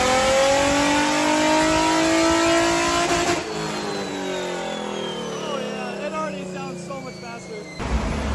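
A tuned Infiniti G35 engine screams on a dyno, rising in pitch through a loud pull before lifting off and winding down, with a brief burst of noise right at the end.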